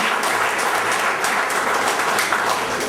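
Steady applause from an audience at a Nishad community award ceremony honoring a recipient, dense clapping sustained at an even level throughout without pause.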